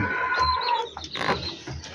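A hen clucks close by in short, throaty bursts over a steady farmyard background.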